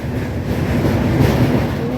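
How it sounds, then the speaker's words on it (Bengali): Steady, loud rumble and clatter of the Dhauli Express crossing the Kolaghat bridge over the Rupnarayan River, continuous throughout with a low hum and rattling wheels, heard from on board. "এই মুহূর্তে কিন্তু আমাদের ট্রেন পার করছে কোলাঘাট ব্রিজ"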